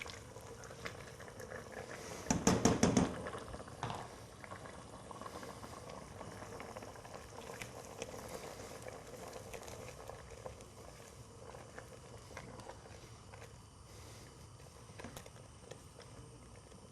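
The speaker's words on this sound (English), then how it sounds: "on the stove, and then we're going to sprinkle in the Bisto gravy granules" Steak and ale pie filling simmers in a pot on the stove, giving a faint, steady bubbling throughout, with a brief louder burst of liquid noise early on.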